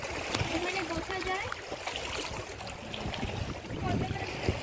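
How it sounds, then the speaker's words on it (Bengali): Water splashes and laps steadily against the bank of a lake island at Maithon, a continuous close wash of small waves with a person talking over it. "ঢেউয়ের শব্দ পাড়ে লাগার।"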